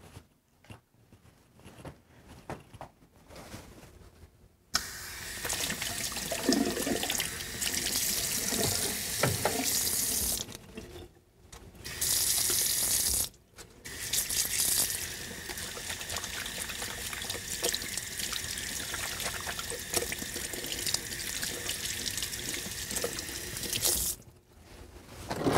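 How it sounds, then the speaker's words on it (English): Tap water runs steadily into a sink as hands are washed in a medical exam room during a physical examination, the flow starting after a few seconds of quiet, briefly pausing twice, then continuing loud and close until near the end. "I'm going to go wash my hands."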